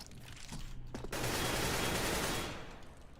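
Rapid gunfire in CS:GO on a metal floor, a dense close burst of shots that rattles on for a couple of seconds before tapering off.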